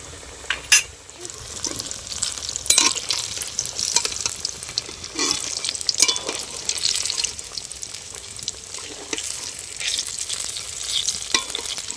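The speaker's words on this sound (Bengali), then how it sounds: "এগুলো দু পিঠ খুব ভালো করে আমি ভেজে নেব।" Tomato chops fry in a pan, turned to brown both sides, with a continuous sizzle broken by scattered clinks and scrapes of a utensil against the pan. No one speaks.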